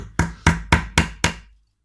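An ordinary small 100-gram hammer drives nails into wooden beehive frames during spring preparation of an apiary, giving five sharp, evenly spaced close strikes with no talking.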